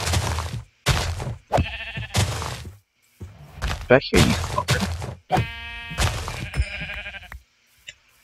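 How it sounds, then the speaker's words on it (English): Sheep bleating in Minecraft, several short harmonic bleats in the second half amid thumping combat hits and a voice talking over the action. "now it's time to murder some sheep until I have enough wool for beds"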